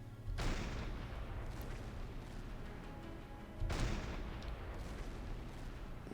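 Two heavy booms from a submarine deck gun firing high explosive rounds in Silent Hunter 5, each a sharp blast trailing into a long rumbling decay, several seconds apart, loud and alone.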